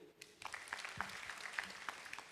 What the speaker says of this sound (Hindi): गुड, तालियां।